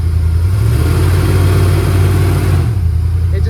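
A 1968 Dodge Polara engine with a four-barrel intake and carburetor runs loud and steady with a low rumbling roar, dropping off briefly near the end before continuing.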